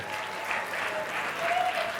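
Audience clapping at a comedy show, a short, even burst of applause from a crowd, moderately loud and steady throughout.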